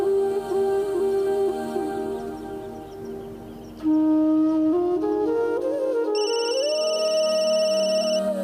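A telephone ringtone plays in a Marathi TV serial scene, a bright electronic melody of sustained tones that shifts pitch midway and continues steadily and clearly, with no talk over it.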